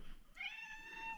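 A pet cat meows once in a home kitchen, a drawn-out, rising and falling meow heard close but fairly quiet over faint room noise.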